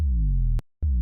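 Synth sound processed with the Opalize plugin adding harmonics: two sustained buzzy tones, each cut off abruptly, with a short silent gap before the second note enters, loud and close with no voices.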